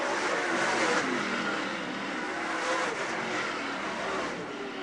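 Lucas Oil Late Model race cars roar around the Utica Rome Speedway on the final lap, a loud, dense engine wash that swells as the cars pass close, then eases slightly.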